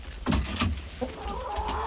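Backyard chickens clucking close by at dusk during feeding with bread pieces, a few short bursts of clucks over a steady outdoor background.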